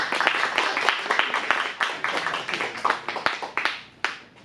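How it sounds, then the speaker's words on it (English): An improv class audience claps in a room, a dense burst of applause with sharp individual hand claps that thins and fades out toward the end. "Round of applause."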